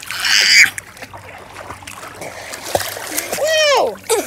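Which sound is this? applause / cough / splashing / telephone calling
splashing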